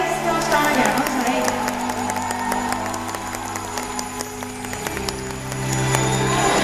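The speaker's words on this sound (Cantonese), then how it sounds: "多謝，俾啲掌聲" A concert audience at the Touch Mi world tour show in 2014 breaks into sustained applause and cheering, a dense crowd roar with music lingering underneath.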